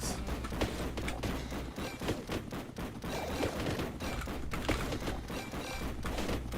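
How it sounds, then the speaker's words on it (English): A bolt gun fires repeatedly in a Warhammer-style action game, its projectiles bursting in a steady run of close, heavy thumps and blasts. "the bolt gun shoots in the direction you're running"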